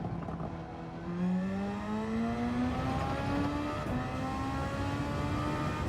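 A Superformula race car at Fuji in Gran Turismo 7 screams along a straight, its engine pitch climbing steadily through the gears as it accelerates. It sounds close and continuous, with no voices.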